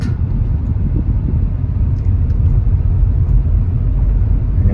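Steady, loud engine and road rumble from a Chery Tiggo 5X Lux SUV while driving, a continuous low drone with no talk over it.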